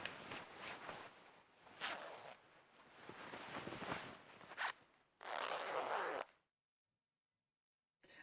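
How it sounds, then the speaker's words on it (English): Jacket zipper sound effect from the Resident Evil game, several quick close zip strokes and rasps in bursts, the longest near the end, followed by silence. "That was a sound effect of a jacket."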